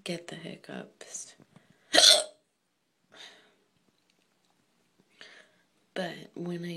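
A drunk person's loud hiccup breaks into quiet, breathy speech, and softer hiccup sounds follow between bits of talk, all close to the microphone.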